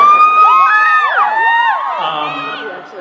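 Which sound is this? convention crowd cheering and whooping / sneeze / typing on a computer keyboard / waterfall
convention crowd cheering and whooping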